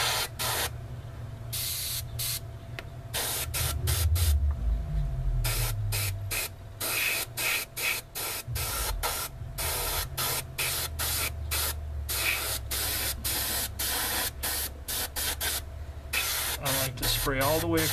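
Aerosol spray primer hisses onto a plastic model kit in a rapid series of short bursts, close and steady, with a low rumble running underneath.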